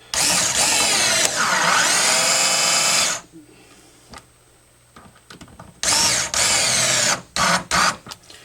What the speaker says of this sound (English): I'm going to do just like we did before with the cordless screwdriver.